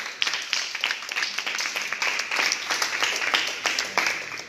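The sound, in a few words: applause for the Lord in church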